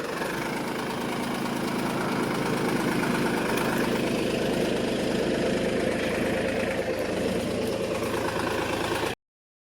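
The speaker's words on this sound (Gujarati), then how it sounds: "હવે ટ્રેક્ટર જાય હે ઘેર" A farm tractor's diesel engine runs steadily nearby as it drives off from a village field, a loud, even, throbbing drone with a faint knock that holds for about nine seconds before cutting off abruptly.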